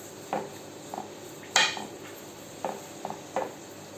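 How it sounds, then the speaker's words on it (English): A pan for baked fish and vegetables takes a few light scrapes and clinks as oil is spread across it, short separate metallic taps with quiet gaps between them. "We're going to be adding an oil, okay, just to the pan. So we're going to scrub this oil right in here."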